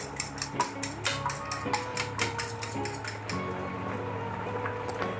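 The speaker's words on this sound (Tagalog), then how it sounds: "Meron tayo dito 2 itlog. Haluin natin." Two eggs being stirred in a bowl with a utensil, a rapid rhythmic series of clinks and taps against the bowl with a wet swishing underneath, close and steady, ending as a voice speaks briefly.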